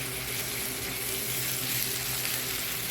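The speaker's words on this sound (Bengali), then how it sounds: "রসুন পেস্টটাও পেঁয়াজের সাথে একটু ভেজে নেব।" Garlic paste fries with onions in a pan for a small fish curry with olives and tomato, a continuous even sizzle heard up close with no voices.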